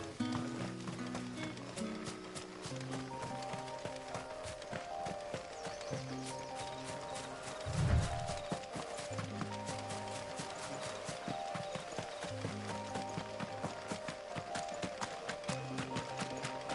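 Rhythmic clip-clop of horse hooves galloping under a rider in Final Fantasy XVI, a steady fast beat over a background music score throughout.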